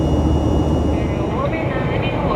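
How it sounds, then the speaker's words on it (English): Cabin of a retro Trigana Air aircraft in flight to Wamena in West Papua: a loud, steady, broadband engine drone with a deep low rumble that fills the whole moment. "We are up in the sky, on the way to Wamena, in the center of West Papua, on board a very retro aircraft."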